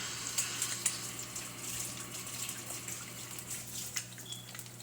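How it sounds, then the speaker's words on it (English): Water from a kitchen tap runs steadily while hands are washed beneath it, a soft broadband splashing with occasional louder drips and clatters, fairly quiet with no talk. "So I'm going to wash my fucking hands here, which I'm not going to film."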